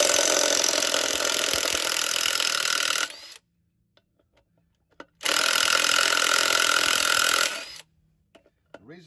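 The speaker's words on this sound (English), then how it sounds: "I'm gonna get my impact wrench" Pneumatic impact wrench working on boat trailer wheel lug nuts, with two loud sustained bursts of about three seconds each separated by a quiet pause.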